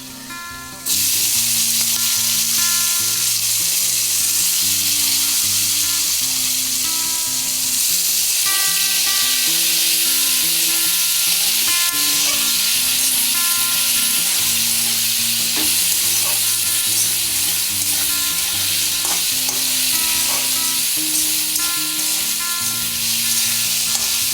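Tomatoes fry in a pan with a steady, continuous sizzle, close and loud, with occasional stirring scrapes and faint clinks throughout.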